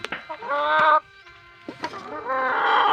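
Several egg-laying hens cluck and squawk up close, with rapid bursts of calls and a few sharp cries, loud and lively with no speech.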